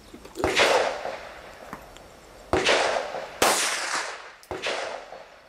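Shots from a Glock 21 pistol fitted with an Advantage Arms conversion kit ring out at an outdoor range, four sharp cracks spaced irregularly, each with a short echoing tail, moderately loud with no talking.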